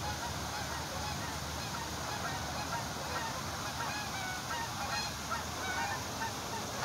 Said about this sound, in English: Migratory birds moving.